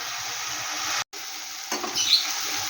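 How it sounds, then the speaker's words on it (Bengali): Tomato and spice masala sautéing in a covered pan gives a steady, even sizzling hiss, broken by one brief gap partway through, with no voices. "এবার বেশ সুন্দর করে আমি একটু ঢাকা দিয়ে কষিয়ে নিই।"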